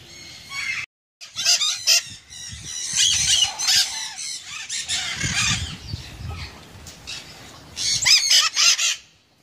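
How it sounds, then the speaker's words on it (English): Chickens squawking and clucking with a rooster crowing, loud close bursts of fowl calls separated by short quiet gaps. "I really like chickens."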